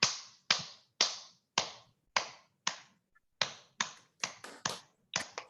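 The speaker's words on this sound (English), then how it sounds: "Let's all clap." A group at a Scrum meetup clapping hands together in unison: about a dozen sharp, fairly faint claps, roughly two per second in a steady beat, with slightly quicker claps near the end.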